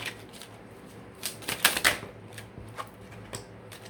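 An oracle card deck being shuffled, a few quick crisp riffling bursts in the middle over quiet room noise, close and soft with short flicking clicks around them.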